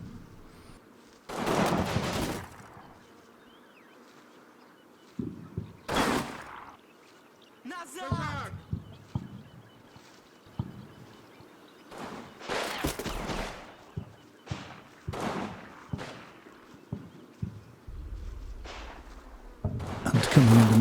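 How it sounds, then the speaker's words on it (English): Machine gun fire from the World War II wargame Combat Mission, with a German HQ unit coming under fire. Short, sharp bursts crack out at irregular intervals, with quiet gaps between them. "And coming under machine gun fire takes more casualties."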